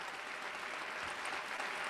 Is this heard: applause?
yes